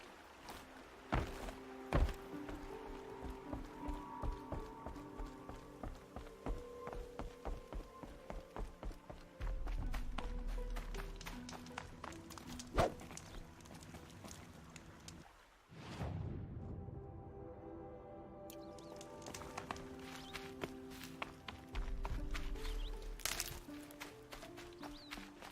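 A horse gallops in the video game Horizon Zero Dawn, with rapid rhythmic hoofbeats and thuds under game music and effects, briefly breaking off midway before resuming.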